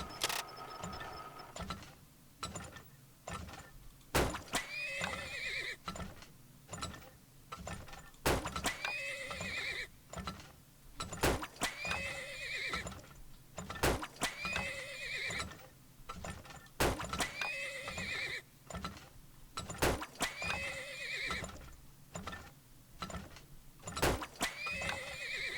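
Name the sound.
horses neighing and hooves in the video game Turmoil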